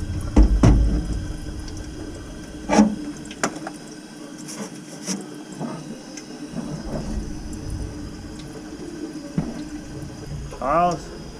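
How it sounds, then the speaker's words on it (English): Water running from an old Elkay drinking fountain just after its drain blockage was cleared, a steady faint flow with small splashes and clinks, and people talking nearby. "Alright, let's run the water."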